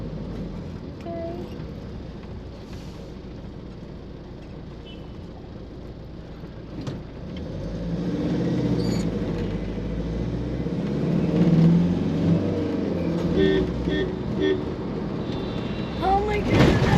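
A car driving on a road in Punjab, India, heard from inside the cabin, with a steady engine and road rumble that swells as it accelerates, while people talk now and then.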